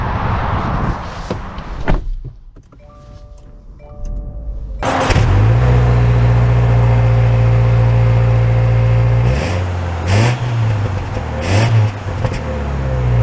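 2024 Subaru Legacy heard from inside: a door thuds shut, a quiet pause with soft chimes follows, then the engine starts and settles into a steady low hum with a couple of brief rises.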